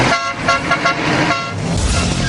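Short car horn toots sound over road traffic, a few quick honks pulsing within a couple of seconds amid steady vehicle noise.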